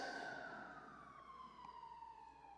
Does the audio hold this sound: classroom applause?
no